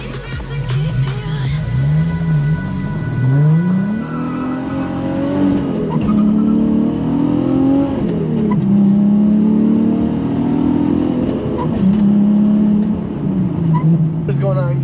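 A manual 2008 Infiniti G37 Coupe Sport engine revs repeatedly, its exhaust note climbing and falling in pitch over about fifteen seconds, loud and close, with singing in the background.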